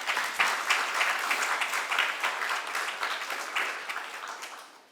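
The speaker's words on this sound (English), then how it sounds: "Let us give Professor Ramose a big round of applause." Applause from a lecture audience for a professor after a session introduction, a dense, steady wash of clapping that fills the room, starting loud and slowly tapering off toward the end.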